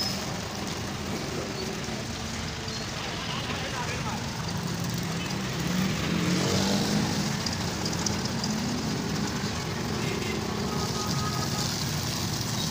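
Busy city road traffic in Pakistan, a steady broadband rumble of passing vehicles with a louder swell midway, continuous throughout.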